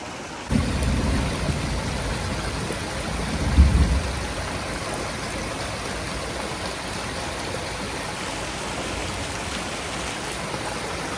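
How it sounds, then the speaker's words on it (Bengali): Rainwater rushing through an open drain after heavy rain in Vrindavan, a steady broadband wash of flowing water with a brief louder surge early on, continuous and fairly close. "এই নালার জলগুলো ডাইরেক্ট যাবে যমুনায়"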